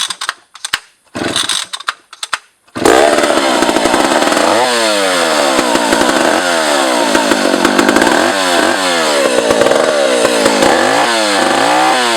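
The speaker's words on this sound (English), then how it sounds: "Lovely chainsaw." A Husqvarna A 65 chainsaw starts after a few sputtering pulls, then runs loudly and steadily close by, its engine revving up and down repeatedly.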